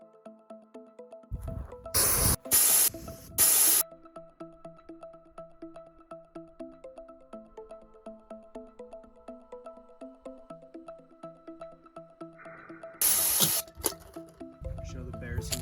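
Bear spray is discharged outdoors in Montana in two harsh hissing bursts. The first comes as a few quick pulses near the start, the second as a longer blast near the end, both over faint rhythmic background tones.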